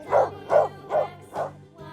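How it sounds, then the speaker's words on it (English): A cartoon dog barks four times in a steady rhythm, each woof clear and close, followed by a short whimper-like note with no other sound. "D for dog."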